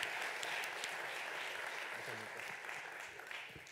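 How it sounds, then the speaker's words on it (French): Audience applause for a speaker named Bruno at a French professional conference on LinkedIn, a steady, dense wash of many hands clapping that holds for the whole stretch with faint talk underneath. "On peut encore applaudir Bruno."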